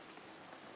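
Steady rain pattering down in the Hitman World of Assassination game, a soft, even hiss of drops with no other sounds.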